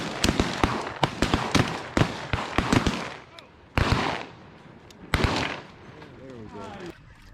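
Sharp, loud shotgun blasts during a goose hunt in Arkansas, a rapid volley of about ten close shots in the first three seconds, then two more isolated booms with voices and dog or bird sounds in between.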